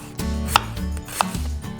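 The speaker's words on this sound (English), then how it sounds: "So I'm just going to chop 1 onion." A knife chopping an onion on a board for pico de gallo, a few distinct close chops at an uneven pace over a low background hum, with no voices.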